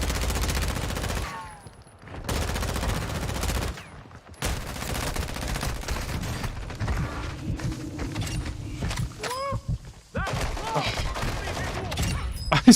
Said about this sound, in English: He's been sniped by somebody else, the poor bugger.